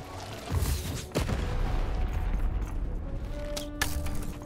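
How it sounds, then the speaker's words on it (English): Cannons firing in the game Lost in Random, with booming explosions landing close together, a sharp loud blast near the start and another later, over a continuous rumbling background. "Ah, explosions everywhere."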